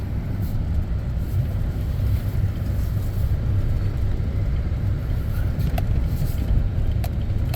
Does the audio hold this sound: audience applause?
no